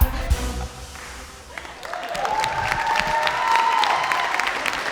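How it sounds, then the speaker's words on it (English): Audience clapping and cheering during a live televised singing competition show, a steady wash of applause building in volume and holding strong through the end, with a faint voice underneath. "Clap for me."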